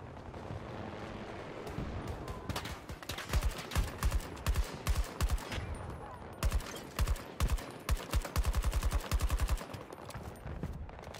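Rapid bursts of automatic gunfire and scattered single shots ring out in Battlefield 2042 Breakthrough mode, loud and near, coming in clustered volleys with short pauses between them over a constant battlefield rumble.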